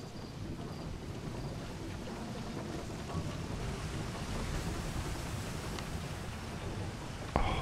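A water wheel turns in the Outer Wilds game, a steady dense rushing wash of flowing water with a low rumble, continuous and even throughout, with a faint click near the end.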